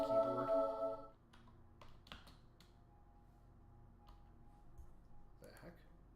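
A computer keyboard is typed on in scattered, faint clicks and taps after a brief louder burst of other sound, with quiet keystrokes spread across several seconds.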